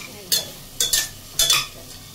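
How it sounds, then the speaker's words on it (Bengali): Spice paste with tomato, ginger and garlic sautés in oil: a quiet sizzle broken by three bursts of scraping stirs, the later two doubled, each loud and close. "এই যে কষানো চলছে, মশলাটা অলমোস্ট কষানো হয়ে গেছে"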